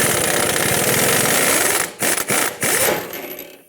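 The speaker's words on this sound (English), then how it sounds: "I'm going to take my 24mm socket with my air gun and try to drive this off" Air impact gun fitted with a 24mm socket hammering at a stuck nut on a 2012-2020 Ford Focus steering rack; loud, continuous rattling buzz for about two seconds, then a few short stuttering bursts before it winds down.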